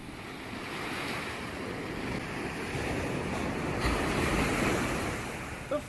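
Ocean surf rolling steadily with wind buffeting the microphone, a continuous broad wash of waves that swells slightly toward the end, with no voices.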